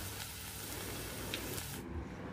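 Battered cauliflower for Gobi 65 frying in hot oil until crisp, giving a steady, dense crackle and sizzle that runs throughout at an even level, with no voices.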